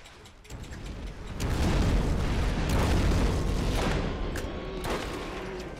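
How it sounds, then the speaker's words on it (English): Fiery rocket launcher explosions in the Borderlands video game build into a loud, dense roaring barrage. Overlapping booms and crackling bursts swell after a second and hold strongly before easing slightly. "It's fiery rocket launcher time!"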